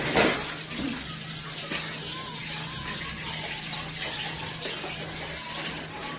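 Dishes being washed under a running tap at home, a steady hiss of flowing water with faint clinks, continuous and fairly close, and no talk.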